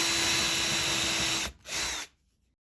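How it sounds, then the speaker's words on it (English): Power drill boring a small hole through a rubber plug: a steady high-pitched whine that dips briefly, surges back for half a second, then cuts off into quiet. "we'll make one by drilling a small hole in a rubber plug."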